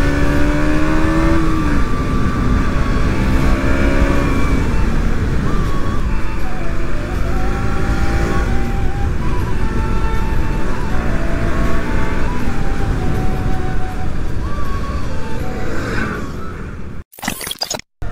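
A KTM Duke 200 BS6 motorcycle is ridden at full power, its engine droning loud and close under heavy wind rush, rising and falling through gears before ending in sharp bursts of noise.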